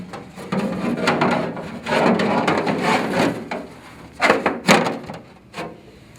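A dash panel slides into a Suzuki Hayabusa Pro Stock motorcycle fairing, giving close, loud rubbing and scraping bursts with a few sharp knocks as it locks into place, no voices.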